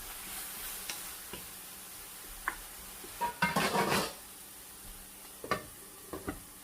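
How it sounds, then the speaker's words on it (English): Baby bok choy with soy sauce and black pepper is stirred in a pan, with quiet sizzling under scattered utensil taps and clicks and a short burst of louder scraping and spattering midway, and no talking. "We're going to stir this up."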